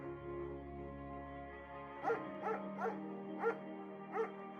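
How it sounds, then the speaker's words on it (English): A shepherd dog in the Firewatch video game barks five short times at a steady pace, each bark clear and mid-distance, after a sustained tonal music bed. "Mayhem's an excellent dog."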